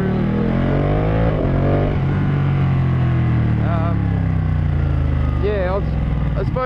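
A 2014 Ducati Panigale 1199 motorcycle engine drones loudly beneath someone speaking, with the pitch gliding and wavering as the bike rides along, alongside steady wind noise.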